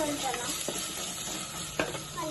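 Curry leaves sizzle faintly in a pan while being stirred, giving a soft continuous hiss with a few light scraping clicks from the utensil, and a voice talking quietly at times.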